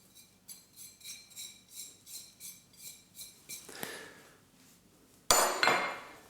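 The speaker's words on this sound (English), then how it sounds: "Now we can just give those a quick mix" Flour, instant mashed potato, herbs and spices being mixed in a bowl, with steady rhythmic scraping and clinking strokes, a brief pause, then a louder burst of rattling near the end; no voices.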